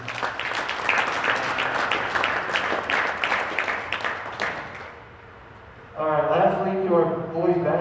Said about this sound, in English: I want to give him a round of applause and say thank you